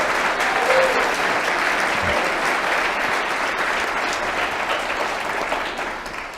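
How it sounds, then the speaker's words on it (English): Warm audience applause at a church forum fills the space with a steady, dense wash of clapping that holds for several seconds and tapers slightly at the end, with no talk over it. "Would you offer a warm round of applause for Natosha Reid Rice?"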